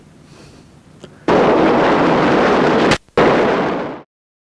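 The Enschede fireworks factory explosion hits as a sudden, very loud roaring blast that holds for a few seconds, breaks off briefly, then surges again before cutting out.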